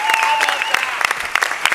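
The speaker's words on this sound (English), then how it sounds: "Another round of applause." Audience applause at the E3 Coliseum Grim Fandango event with Jack Black, a steady burst of dense clapping from a large crowd that fills the short stretch.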